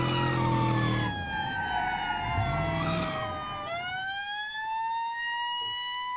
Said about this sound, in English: That's an old school American police siren.